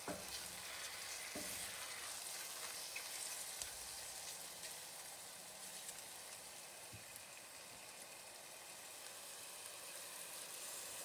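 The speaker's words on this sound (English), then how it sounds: "I drop the mushrooms into a preheated pan with some olive oil." Mushrooms sizzle steadily in olive oil in a preheated pan, a dense, even frying crackle that runs the whole time, with an occasional stir or clatter of the pan breaking through and no voices.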